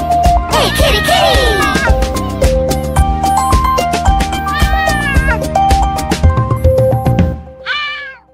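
Cartoon cat meows in a children's nursery rhyme, several rising mewing calls over a full, busy musical backing with singing, ending in a short higher meow.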